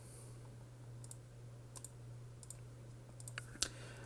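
Keys tapped on a computer keyboard while functions are entered into graphing software, a few sparse, faint clicks in short bursts over a low steady hum, with no talking.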